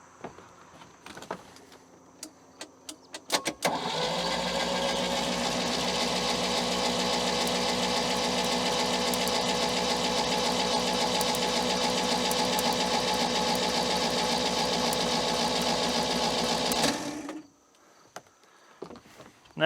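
A 1973 Mercruiser 120hp boat engine is cranked over by the starter for about thirteen seconds, a loud, steady, rhythmic whirring churn that starts abruptly after a few clicks and cuts off sharply, without firing.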